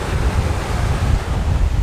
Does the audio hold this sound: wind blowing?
yes